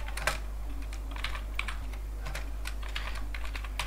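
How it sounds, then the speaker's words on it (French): Someone types a command into a computer terminal on a keyboard, a quick run of close, crisp keystrokes tapping in irregular bursts over a low steady hum, with no voices. "Je viens donc dans mon terminal. Je tape Python -m"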